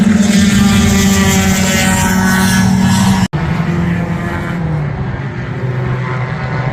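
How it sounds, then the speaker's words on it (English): A Dodge Dakota pickup truck races in a budget run-what-you-brung event. Its engine holds a loud, steady roar, cuts out for an instant midway, then continues slightly quieter. "A Dodge Dakota pickup truck."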